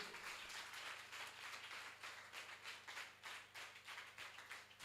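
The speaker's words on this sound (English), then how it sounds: "Please, let's clap for them, please." An audience claps for school staff members at a gathering, a steady patter of many hands lasting several seconds with slight swells, fairly faint, with no voices over it.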